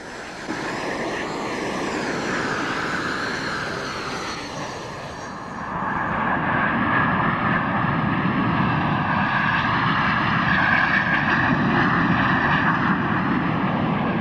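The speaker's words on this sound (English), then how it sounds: "the pilots taxi out to put on what's probably their most important display of the year" Red Arrows jets taxiing out for a display, a continuous loud engine whine and roar that rises after a few seconds and holds steady, heard from nearby without any talk.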